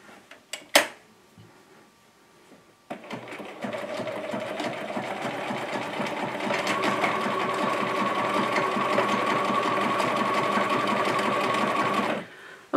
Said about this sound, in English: you sew along in a vertical line and then you push your button